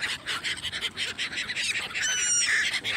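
Noisy waterfowl, likely geese and ducks, honking and calling at a park lake at Leazes Park in Newcastle, with a dense, continuous chorus of overlapping calls close by and no talk.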